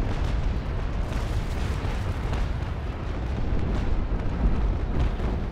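Naval cannon fire during a Naval Action port battle between Spain and pirates at Isla Morada forms a steady, dense roar of overlapping booms and rumbling blasts, with no clear gaps.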